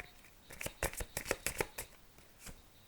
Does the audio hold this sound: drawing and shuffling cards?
yes